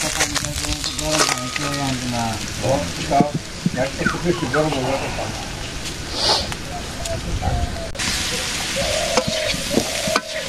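Potatoes sautéing in a pan in a village kitchen give a loud, crackling sizzle with repeated stirring scrapes, while a person talks over much of it.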